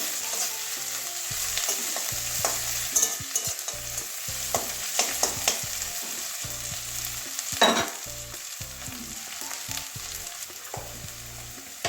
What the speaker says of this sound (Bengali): আদা রসুনের কাঁচা গন্ধটা যাওয়া পর্যন্ত আবার নাড়িয়ে নেবো ভালো করে